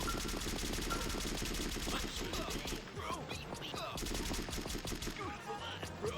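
Rapid gunfire bursts from the drip cannon in the Fashion Police Squad shooter, a dense, loud, continuous volley of shots and impacts mixed with game effects throughout.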